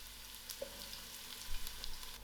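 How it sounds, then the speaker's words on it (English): Onions fry in hot oil in a pot, a soft, even sizzle with faint crackles and small pops, heard up close and alone throughout. "I'm just going to throw in my onions to the pot, and I will allow this to fry"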